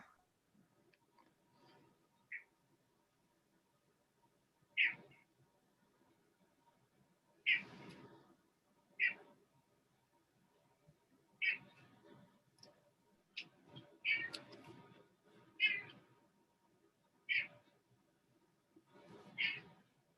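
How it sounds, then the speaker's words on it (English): House cat meowing near an open meeting microphone, a string of faint, separate meows spaced a second or two apart over a quiet room. "I hear your cat meowing"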